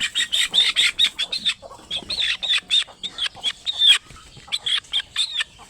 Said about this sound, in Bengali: তো এই মুরগিটা আমি কিন্তু ধরে নিয়ে আসছি।